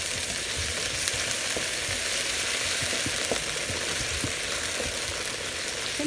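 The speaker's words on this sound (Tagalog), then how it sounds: "magigisa na tayo guys ng ating bawang. Lalagay na rin natin yung sibuyas at yung kamatis." Garlic, onion and tomato sauté in a hot pan, giving a steady, close sizzle with light clicks of stirring throughout.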